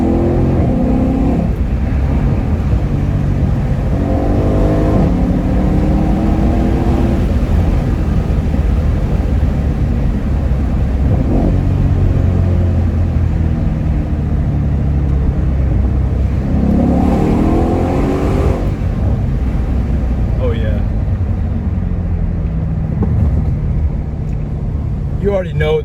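A Mercedes-Benz E63s AMG (W212) with a twin-turbo V8 revs and accelerates, loud and close, in repeated surges among trees, with someone talking over the engine.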